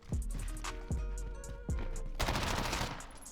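Gunfire in a first-person shooter video game: three sharp single shots with short gaps, then a denser, louder burst of rapid firing, clear and close.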